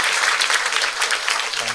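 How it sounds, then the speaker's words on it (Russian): A dense burst of audience applause at a history lecture, loud and close, many hands clapping continuously for a couple of seconds before thinning out at the end. "аплодисменты."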